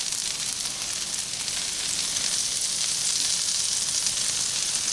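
Butter sizzling on a Blackstone griddle set to low, a steady, bright, hissing crackle that holds evenly and close throughout with no voices.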